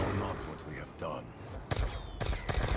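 Gunfire from a Call of Duty-style zombies mode, a Mauser among the weapons, as bursts of shots come through dense game noise with some talk mixed in.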